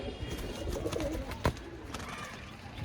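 A pair of fancy pigeons coo softly in a loft, a low, burbling, continuous murmur with a brief sharper knock partway through.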